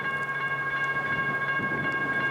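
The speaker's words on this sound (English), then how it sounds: "we catch up to just such a train heading south on CSX's Fremont subdivision." LORAM rail grinding train working a CSX line in Michigan, a steady mechanical drone with sustained tonal whine and faint rhythmic clatter, continuous and fairly loud.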